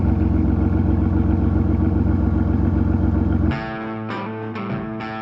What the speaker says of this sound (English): Probably my favourite part is this exhaust note.